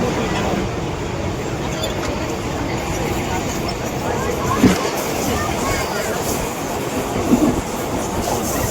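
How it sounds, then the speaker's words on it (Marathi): A Mumbai local train pulls away and runs along the rails, a steady broadband rumble with faint clicks throughout, louder bumps near the middle and end, and voices faintly beneath. "आता ट्रेन पण सुटली आपली लगेच"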